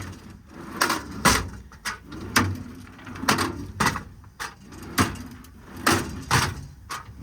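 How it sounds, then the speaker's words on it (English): Steel tool drawers on the service body of a 2015 Ford F750 mechanics truck slide open and shut repeatedly. Quick rolling swishes end in crisp knocks and clacks, close and rhythmic, with no talking. "These slides super easy. Really nice action on these drawers."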